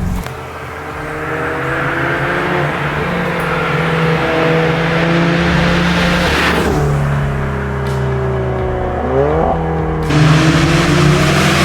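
An Alfa Romeo 4C coupe, a 2,400-pound hand-built carbon-fiber sports car, revs its engine loudly and up close, the pitch climbing and dropping through several rising sweeps, with a sharp throttle blip near the end.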